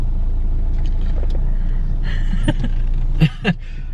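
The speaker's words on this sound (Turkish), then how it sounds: "Biliyorsunuz araba çok sallıyor." A car driving along a road, with a steady low engine rumble and cabin noise throughout and a couple of short thumps near the end as the car jolts.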